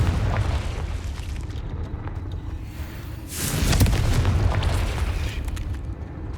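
A Confringo spell explosion in the Hogwarts Legacy video game bursts midway with a loud, deep boom and crackling blast that rumbles off over a few seconds, set against ongoing low game ambience.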